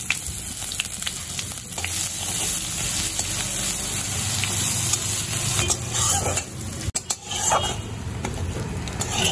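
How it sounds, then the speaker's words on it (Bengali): Steady sizzling of grated ginger frying in hot oil in a wok, with occasional stirring and clinks of a utensil against the pan, no voices. "আদা ভাজা হয়ে গেছে"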